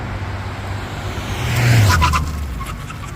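A modded Mitsubishi Mirage makes a brake test run with hot upgraded drilled and slotted rotors and carbon ceramic pads, its engine and road noise swelling to a peak mid-clip and then fading, with no talk.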